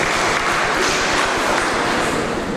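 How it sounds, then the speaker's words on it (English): Steady, dense applause from an audience at a spelling bee competition finals in Abuja, a continuous wash of many hands clapping at even loudness throughout, with no voices over it. "A round of applause for you, please."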